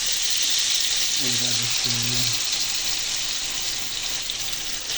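Lentil piyaju, fritters of masoor dal, hissing steadily in hot oil, a loud continuous sizzle throughout, with a short stretch of spoken words near the start.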